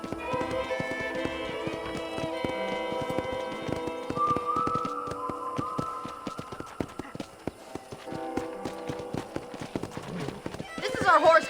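Horse hooves clip-clop around a ranch corral in the Red Dead Redemption video game, a steady patter of hoofbeats with an occasional whinny beneath background music and people talking.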